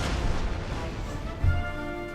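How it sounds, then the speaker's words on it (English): Cannon fire on a battlefield in the video game Empire: Total War, low booming blasts rumbling under dense battle noise, with one heavier thump midway. "They are hitting me with their cannon."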